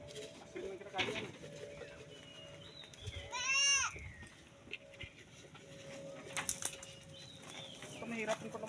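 A goat lets out a single wavering bleat over quiet outdoor ambience, with people talking softly nearby.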